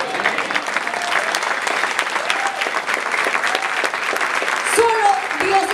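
A church congregation applauds loudly and continuously, with a voice briefly audible through the clapping near the end.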